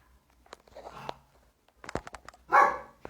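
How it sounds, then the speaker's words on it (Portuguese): A dog barks in a few sharp bursts, with a louder, harsher burst near the end, mixed with softer scuffling and faint background noise. "O latido da Nina tá tudo aí"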